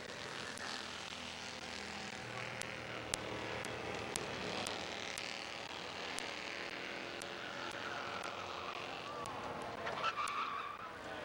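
A race car at Midvale Speedway slides sideways through turn four, engines droning at a distance with a faint, steady roar and brief sharp ticks, under a muffled backdrop of crowd and track noise.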